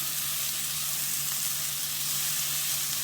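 Sliced onions cook over medium heat in a pan, giving a steady, even sizzle close by with a faint low hum beneath and no speech.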